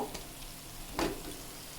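Spice masala fries in oil with a little sugar as it is stirred in a pan, giving a faint steady sizzle with a brief scraping stir near the middle.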